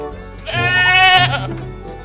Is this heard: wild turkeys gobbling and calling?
no